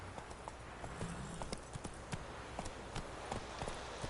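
Roach the horse trotting in The Witcher 3, an even series of light clip-clop hoof strikes repeating at a moderate pace over a soft, steady ambient bed.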